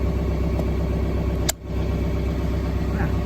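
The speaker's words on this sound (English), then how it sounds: "So I started the tractor and it's gone down a little bit." A new John Deere 4066R compact tractor idles steadily nearby, its even mid-pitched engine drone holding constant throughout apart from one brief click and dip partway through.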